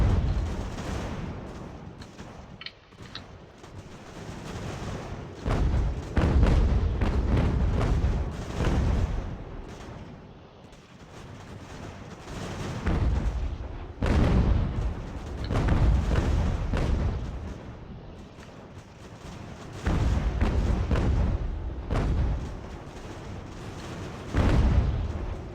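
Artillery pounds a fort in the strategy game Ultimate General: American Revolution, heavy booms landing in repeated clusters, some overlapping into rumbling volleys, with short quieter gaps between barrages.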